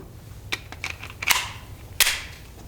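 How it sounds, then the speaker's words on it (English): Glock 44 .22LR pistol firing at a range: several sharp, light cracks at irregular spacing, fairly close, with two standing out louder and faint clicks between them. "All right, next mag up,"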